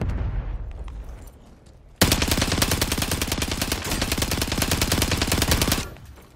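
Rapid, sustained automatic gunfire in Call of Duty at a harbor, a dense, loud, close burst of shots running for several seconds before cutting off, over a quiet ambient backdrop.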